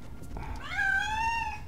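In Thief: Deadly Shadows, a cat lets out one clear, close meow that rises and holds, with a low ambient hum underneath and no talking.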